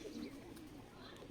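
Wild forest pigeons, a male pestering a female before egg-laying, give soft low cooing calls that run steadily and faintly through the whole stretch, close by, with no talk over them.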